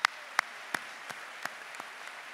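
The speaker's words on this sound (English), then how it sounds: "You deserve another round of applause." Graduation audience applause for the class of 2019, heard as a handful of sharp, evenly spaced claps that fade in loudness over about two seconds, with no talking.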